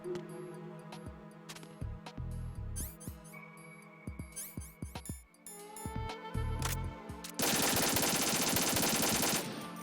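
Gunfire in the video game Metal Gear Solid 2 comes as sharp, repeated shots in clustered bursts, separated by brief pauses and mixed with game sound effects, ending in a dense sustained roar of noise.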